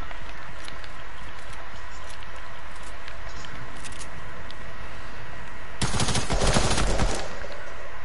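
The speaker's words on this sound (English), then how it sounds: "Is that the TAC SMG?" Rapid TAC SMG gunfire in Fortnite, a dense burst erupting near the end after a stretch of quieter game ambience and scattered distant shots.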